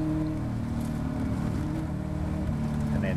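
A Caterham race car powering hard over a blind crest at Cadwell Park, its engine a loud, steady droning roar heard from on board with constant wind and road rumble, no talking.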